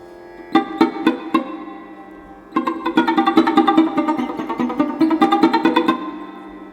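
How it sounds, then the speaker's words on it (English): A sarod plucked with the fingertip rather than the fingernail gives a few separate soft notes, a brief pause, then a quicker run of rounded, mellow plucked notes, close and clear. "If I play sarod with fingertip,"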